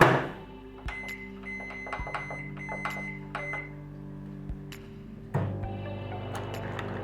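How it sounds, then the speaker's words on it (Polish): Microwave oven running on a four-minute cycle while potatoes cook inside a baking bag, giving a steady low hum with a few light clicks and thumps across the span. "Mikrofalówka ustawiona na 4 minuty."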